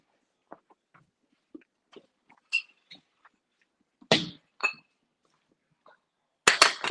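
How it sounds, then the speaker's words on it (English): A mixer beater is pulled out in a home baking kitchen, knocking and clinking against dishes in a string of short, sharp taps, with a louder burst of clatter near the end. "I'm getting this beater out."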